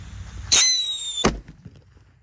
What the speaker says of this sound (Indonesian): Whistling Thunder yang paling besar kita nyalakan sore ini.